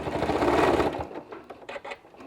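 A sewing machine stitches fabric, with one steady whirring run that slows to a stop, then several short separate stitch bursts close by, alone with no talk.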